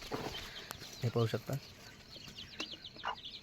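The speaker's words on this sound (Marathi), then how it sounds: "इकडं कोंबड्या अंड्यावर बसलेले." Hens sitting on eggs inside a chicken shed give short clucks and murmurs, close by, mixed with a person talking over them.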